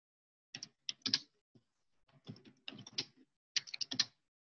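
Keys clatter on a computer keyboard as a letter is typed, quick irregular bursts of clicks separated by short pauses, close and quiet, with no voices.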